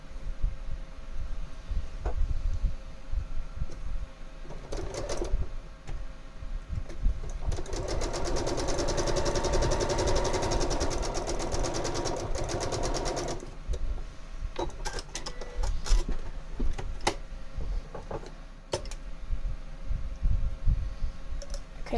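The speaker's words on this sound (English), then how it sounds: "then we'll sew this side on here" A sewing machine stitches a fabric quilt block in a steady whirring run of several seconds midway, framed by quieter clicks, fabric handling and faint room sounds.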